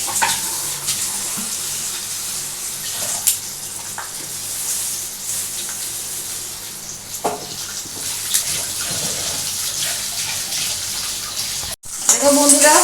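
Spices frying in oil for boal fish curry with eggplant make a broad, continuous hiss and sizzle, loud and close, with a brief scrape near the end.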